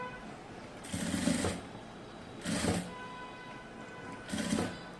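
A sewing machine stitches lace onto a garment neckline in three short bursts of whirring, each lasting under a second, separated by quiet pauses in a close, indoor setting.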